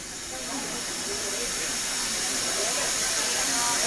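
A steam locomotive boiler at an open day at Milano Centrale gives off a loud, continuous hiss of escaping steam that swells in the first half-second and then holds steady.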